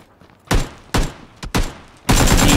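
Gunfire in PlayerUnknown's Battlegrounds, including shotgun blasts: four loud, close shots at uneven intervals, the last merging into a sustained burst of rapid fire that runs to the end.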